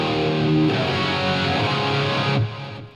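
Distorted electric guitar through a Line 6 Helix Native software preset rings out in thick, saturated chords, changing once or twice before fading toward the end, loud and alone with no talking.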